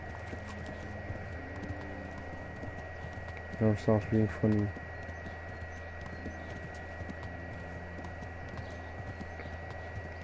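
Horse hooves clip-clopping in Kingdom Come Deliverance, a short burst of about four quick beats over a steady background hum, alongside spoken commentary.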